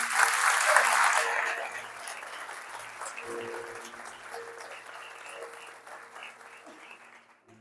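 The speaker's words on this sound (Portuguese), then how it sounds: "Dá um aplauso ao Senhor." A church congregation bursts into loud, dense clapping that fades gradually over several seconds, with a voice speaking and some background sound underneath as the applause tails off.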